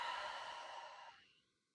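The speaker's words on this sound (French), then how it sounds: "Expirez, relâche." A single deep, breathy exhalation during a relaxation breathing exercise, close and soft, tapering off into near silence.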